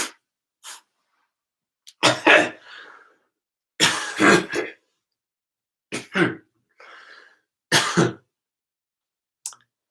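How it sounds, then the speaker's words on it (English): Harsh coughs and throat clearing in several separate bursts spread across ten seconds, close and loud, with short silent gaps between them. "Many apologies for coughing there."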